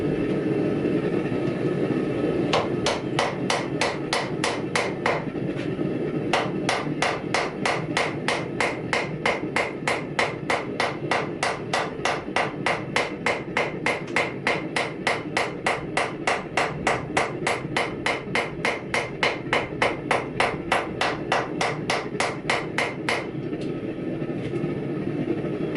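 Rapid, evenly spaced hammer blows ring on a steel billet during forge welding, dozens of metallic strikes in a steady rhythm, with a short pause early on before pounding resumes.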